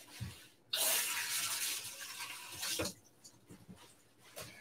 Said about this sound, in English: Now I got to go rinse and wash up again.